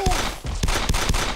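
Rapid gunfire from a G17 pistol in the Arma 2 DayZ mod, several close, loud shots in an uneven burst with a sharp crack on each.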